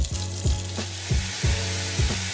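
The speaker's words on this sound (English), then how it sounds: "then you return your meat back to your skillet" Browned meat returned to a skillet after the excess oil is drained sizzles steadily and loudly up close, with a few soft rhythmic scrapes of stirring.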